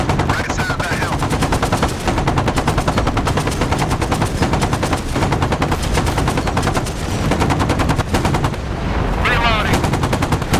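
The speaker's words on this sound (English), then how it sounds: "RPG small arm fire across the post" Small arms fire during a firefight in DCS World: rapid, continuous machine-gun bursts rattle loudly and close throughout, with voices heard briefly amid the shooting.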